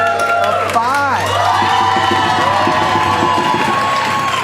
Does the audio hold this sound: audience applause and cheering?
yes